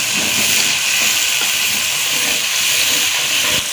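Water poured into frying masala for potato keema, producing a loud, continuous broadband hiss of steam and sizzle that holds steady throughout with no speech.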